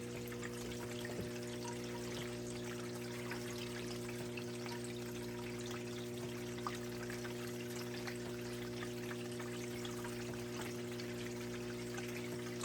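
A steady wash of running water flows down a gold sluice carrying paydirt, a constant close trickle and splash laid over a loud pump-like hum throughout, with no voices.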